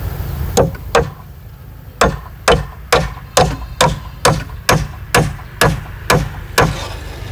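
Hammer blows at a house construction site: about a dozen sharp, loud strikes in a steady rhythm, roughly one every half second with a couple of short pauses, each ringing briefly.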